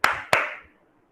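Two sharp hand claps from kindergarten children in a class session, close and crisp, with a short ring-out after the second and no talking.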